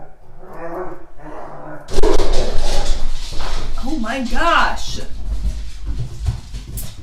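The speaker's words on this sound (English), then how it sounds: "My dogs are having a WWE SmackDown." Pet dogs play-fighting indoors, scuffling and growling with sharp yelps and barks bursting out loudly after a quieter opening, while a person exclaims over the commotion.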